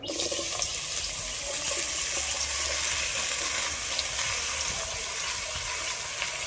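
Bottle gourd pieces hiss and sizzle steadily in a hot wok, a continuous watery crackle close by with no voices.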